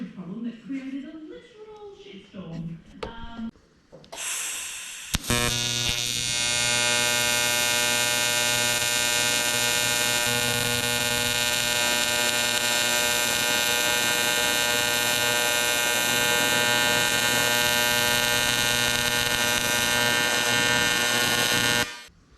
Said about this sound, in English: Clean that up and give it a weld.